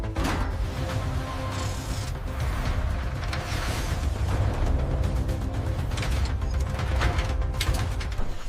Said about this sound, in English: Here we see the hydraulic climbing system in operation.